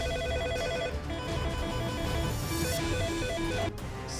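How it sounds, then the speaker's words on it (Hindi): A landline telephone bell rings repeatedly in a steady electronic trill, loud and close, with a sharp click near the end. "फोन की घंटी कभी भी बज सकती है"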